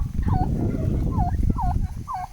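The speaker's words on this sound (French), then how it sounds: "Ils ont masse de dindes." Several turkeys in a Mexican jungle village gobble in a quick series of four warbling calls, close and clear over a busy outdoor background.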